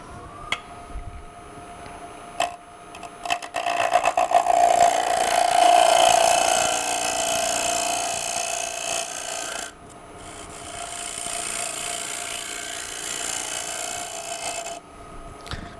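A sharp, freshly burred turning tool cuts the inside of a wooden bowl on a lathe, giving a steady close rasping scrape that swells loud, dips, then carries on in long continuous strokes with brief pauses.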